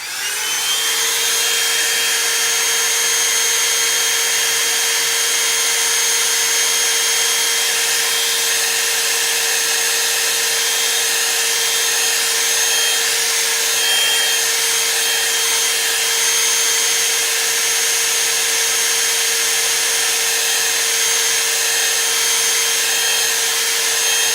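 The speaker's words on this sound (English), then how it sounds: "let's hit that with a blow dryer and a cool dryer on this" A blow dryer used on a painted sign whirs steadily at high volume for the whole stretch, a constant airy whine with no pauses and no voices.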